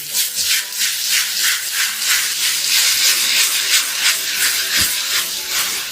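Bean sprouts and beef are stir-fried in a wok, a loud, close, continuous sizzle and hiss with rhythmic tossing swells and a brief knock near the end.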